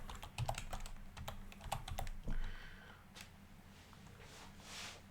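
Typing an IP address on a computer keyboard, a quick close run of light key clicks for about two seconds, followed by a few softer scattered taps and quiet.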